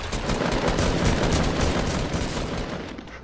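Gunfire in the video game Fortnite comes as a dense, continuous burst of rapid shots, loud and close throughout.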